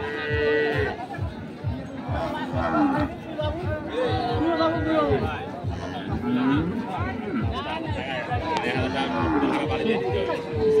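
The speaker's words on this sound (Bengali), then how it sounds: "আমরা দেখছি আজকে দিনাজপুর জেলার আমবাড়ি হাটের যে দুধের গাভী গরুগুলো ছিল" Dairy cows with calves low and moo repeatedly at the crowded Ambari cattle market in Dinajpur, mixed with steady crowd chatter and nearby people talking.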